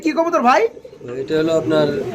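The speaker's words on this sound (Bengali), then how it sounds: "সোয়াবিন কবুতর কিন্তু আবার ডিম পেরে দিছে" Running pigeons coo in soft, rolling throaty calls, two bursts close by with a brief pause between them.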